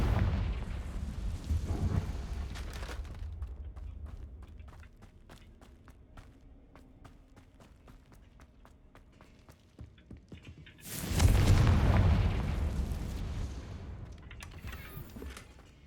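Confringo fire spell blasts in a Hogwarts wizarding video game: a heavy, rumbling explosion at the start fades away, light clicking steps follow, then a second loud, booming blast erupts near the end and lingers.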